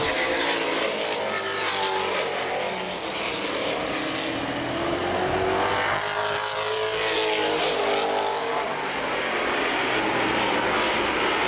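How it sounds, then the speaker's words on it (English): Late model stock cars race around the Baer Field Speedway oval in a feature event, a loud continuous engine roar that swells and fades as the pack passes, with a faint commentator voice underneath. "Mark Mason, the 5, still holding down that number 3 position in the number 5 machine owned by Molly Sword."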